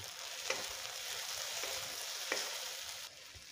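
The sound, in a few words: onion, tomato, ginger-garlic paste and curry leaves sautéing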